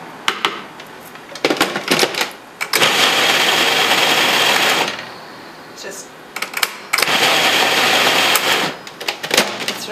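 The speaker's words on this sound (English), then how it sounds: "So I'm going to process this together. I love the food processor." A food processor blends a flax and seed cracker mix in two loud, sustained bursts of grinding whir, with clattering and rattling before and between them.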